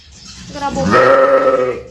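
A goat's single drawn-out bleat rises and holds for about a second, close and fairly loud, with a brief spoken word near the start.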